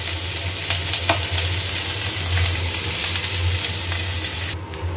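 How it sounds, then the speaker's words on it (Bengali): Chopped onions and slit green chillies fry in oil in a pan, giving a steady, close sizzle with occasional stirring scrapes, continuous throughout with a low background hum. "আর পেঁয়াজটা দিয়ে পেঁয়াজটা ভাজবো"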